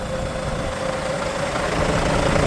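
A large Kia New Granbird Blue Sky bus engine idles nearby, a constant low rumble with a steady droning hum that barely changes.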